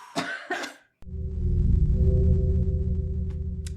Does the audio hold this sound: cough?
yes